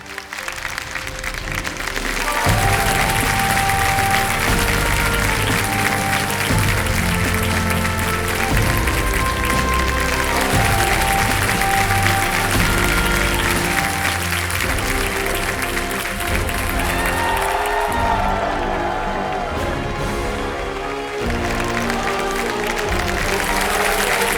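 Loud, sustained audience applause for Aamir Khan in a television quiz show studio, a dense roar of clapping that swells after a brief opening and holds strongly for over twenty seconds, with music playing underneath.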